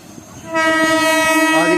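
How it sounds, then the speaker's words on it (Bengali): A Katwa–Rampurhat MEMU passenger train pulls into Azimganj City station, its horn blaring loud and sustained over a low rumble of approaching wheels. "ফাইনালি আমাদের ট্রেন ঢুকে গেল"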